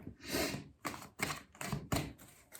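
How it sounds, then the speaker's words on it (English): Stiff tarot cards riffled and shuffled by hand in a quiet room, four or five quick papery bursts with short pauses between, close and clear. "I'm shuffling some tarot cards because I'm gonna pull a tarot card"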